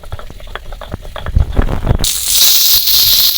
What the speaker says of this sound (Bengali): মাছও ভাজা হচ্ছে আমার মশলাটাও বাটা হয়ে যাবে